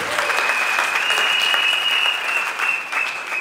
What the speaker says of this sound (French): Je voudrais que les applaudissements très fort.